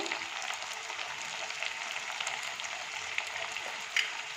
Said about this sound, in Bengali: একই সঙ্গে আলুটা ভাজবো।